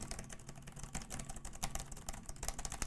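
Fingers type rapidly on a low-profile mechanical laptop keyboard, producing dense, close clicks and clacks in an irregular stream with occasional louder keystrokes, heard alone without any voices.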